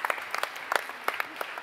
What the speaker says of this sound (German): Nochmal einen Applaus für euch